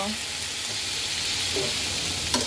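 Cauliflower and potatoes frying in a pan, with a steady close sizzle throughout and a few soft stirring clinks; a sharper splash-like burst near the end as a little water hits the hot pan.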